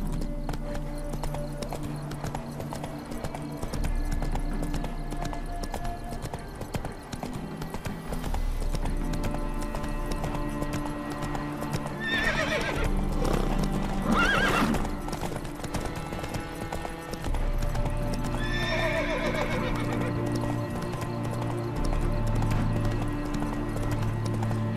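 Roach the horse's hooves clip-clopping steadily in The Witcher 3, close and continuous over a low game soundscape, with a couple of brief whinny-like calls around the middle and later.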